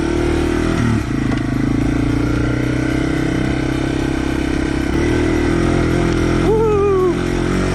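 A Yamaha TW200 motorcycle engine drones loudly and continuously while riding a 50-inch forest trail, with brief shifts in pitch as the throttle changes and a short rising rev near the end.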